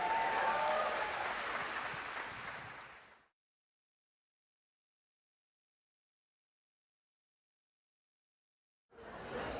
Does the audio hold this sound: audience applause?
yes